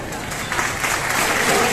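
Dense, loud applause from an audience at a government housing key distribution ceremony, sustained and building slightly throughout, with a voice over a public address system partly under it.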